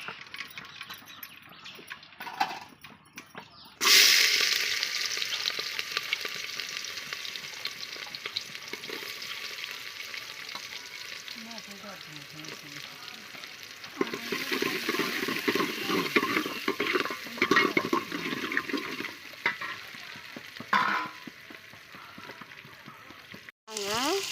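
Cooked dal for drumstick sambar is churned and mashed in a pot, giving wet, irregular scraping and squelching bursts at close range, with a soft voice in the background.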